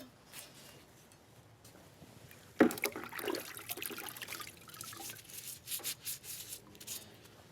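Water is rinsed over a metal piece being given a patina, a sudden splash then running, rubbing wash sounds that rise and fall for several seconds at close range.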